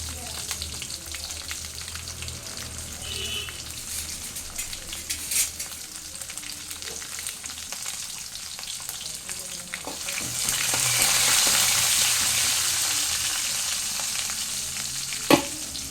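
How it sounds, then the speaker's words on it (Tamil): Small shallots and garlic cloves sauté in oil after cumin and mustard seeds have popped, for a mango, drumstick and tomato kuzhambu; a constant close sizzle with occasional utensil clicks, swelling louder partway through, no voices. "ஒரு பத்து சின்ன வெங்காயம் ஒரு ஆறு பல் பூண்டு இதில் விட்டு வதக்கி விடணும்"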